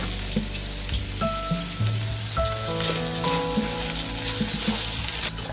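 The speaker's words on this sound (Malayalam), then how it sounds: "റൈസ് ചെറുതായിട്ട് ഒരു 3 മിനിറ്റ്സ് നമുക്കൊന്ന് നന്നായിട്ട് വറുത്തെടുക്കാം." Jeerakasala rice roasting over high heat in a hot pan for fish biryani, giving a steady close sizzle throughout, with faint tonal music running underneath.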